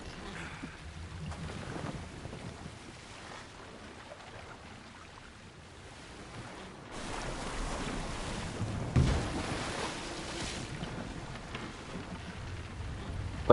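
Soft sea ambience of a boat sailing in Assassin's Creed Odyssey, with water washing and wind hissing at low volume, swelling slightly in the second half with no talk over it.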